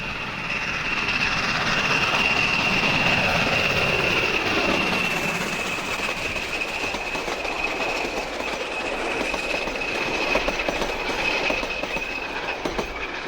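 A steam train hauled by locomotive WW 644 between Papakura and Glenbrook, New Zealand, rolls past with rhythmic wheel clatter and a sustained high metallic squeal, steady and loud throughout.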